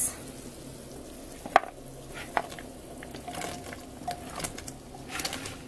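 Diced potatoes and parsley drop into a pot of simmering tomato soup. A faint, steady bubbling and sizzling runs throughout, broken by a few soft thuds and clicks.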